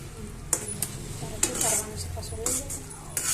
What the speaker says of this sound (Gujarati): હવે આપણે ચૂરમાં નાખી દઉં